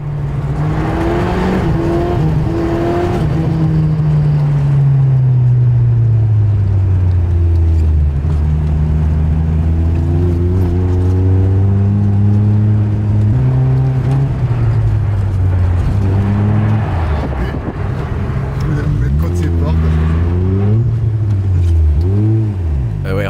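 A Subaru Impreza 2.0R is driven hard on a snowy surface, its engine revving loud and close in long rising and falling sweeps, with no one speaking.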